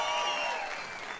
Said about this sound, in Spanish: Fuerte el aplauso para este perro.